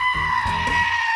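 A goat gives a single loud, close bleat lasting about a second, wavering and nasal against quiet outdoor air.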